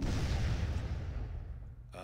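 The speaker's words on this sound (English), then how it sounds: "Explosion!" A rumbling explosion in the video game Tales of Vesperia, a broad, dull boom that slowly fades over two seconds before a short buzzy tone cuts in.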